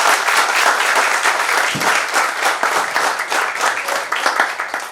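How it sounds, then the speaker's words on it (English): An audience at the inauguration of a UPSC civil services exam preparation center applauds loudly for about five seconds, individual claps standing out within the dense clapping. "Can we have a huge round of applause?"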